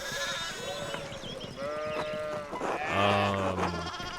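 Sheep bleat in the video game Pentiment, several overlapping calls through the clip with one louder, longer bleat near the end, set against soft ambient game sound and no talk.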